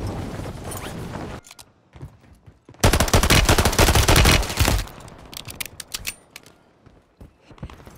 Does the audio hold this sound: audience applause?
no